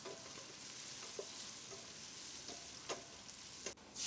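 Seafood pulao with salt and garam masala being mixed in a pot gives a faint, steady sizzle broken by a few soft scrapes and taps of the spoon, with no talk.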